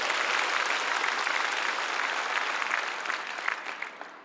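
A church congregation applauding at a prayer rally in a large hall, a full, sustained round of clapping that gradually thins and fades.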